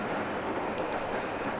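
Steady train rumble from Microsoft Train Simulator as a passenger train runs along the Púchov–Košice line past Krompachy station, a continuous broadband roar with faint high squeals, no talk.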